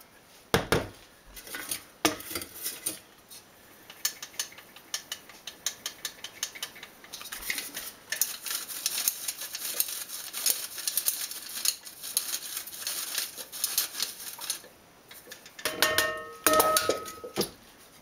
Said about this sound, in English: what I'm going to do now is put it through a sifter